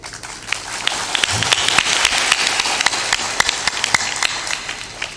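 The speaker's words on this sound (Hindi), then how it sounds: "जोर से ताली बजाया करो" An audience at a spiritual discourse claps loudly, a dense spread of sharp hand claps rising into sustained applause for several seconds.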